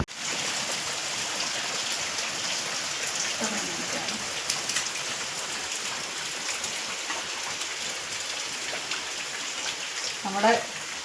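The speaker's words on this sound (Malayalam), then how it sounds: "പുറത്ത് നല്ല സൂപ്പർ മഴ പെയ്തുകൊണ്ടിരിക്കുകയാണ്" Heavy rain pours steadily outside, a dense, even wash of patter with no break, and a couple of brief faint voice sounds rise above it.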